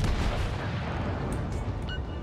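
Secondary battery guns of the battleship Tirpitz firing in World of Warships, a dense, continuous rumble of overlapping booms with sharper cracks near the end, loud and close, with no talk.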